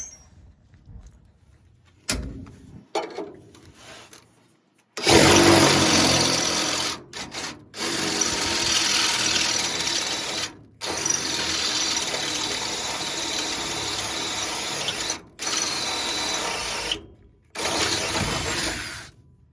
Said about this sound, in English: now that I've got these guys drilled through